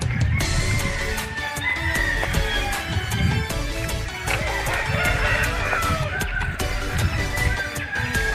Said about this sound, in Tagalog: Marami pong manok sa paligid.